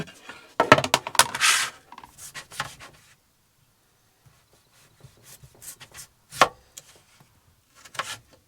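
A knife chops potatoes into fries on a board with a quick burst of close, crisp cuts, then a pause and a few scattered single chops.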